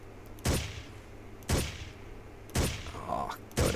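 Four heavy gunshots at roughly one-second intervals, loud and close, ring out during a firefight in the video game Ghost Recon, with a fainter background din between the shots.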